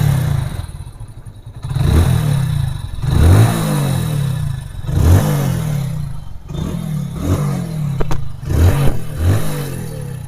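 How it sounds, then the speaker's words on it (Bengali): A motorcycle fitted with an AC pump runs loud and close, revved repeatedly in rhythmic surges that rise and fall about every second or two, with mechanical clatter between bursts. "বাইকের মধ্যে স্টার্ট করব"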